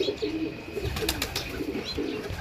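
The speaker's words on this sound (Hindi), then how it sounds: "कबूतर" Pigeons coo in low, throaty rolling phrases close by, repeating several times with a few sharper bird sounds mixed in.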